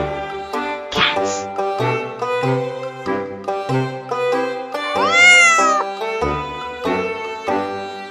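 A cat meows repeatedly, several drawn-out calls close by, one rising into a long wavering yowl, with no talking.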